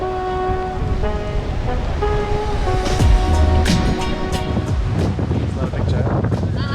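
Wind and surf at the sea on a wavy race day before a half-distance triathlon in Salou, a steady broadband roar with gusting rushes and bursts of wave wash, music or tones faintly underneath throughout.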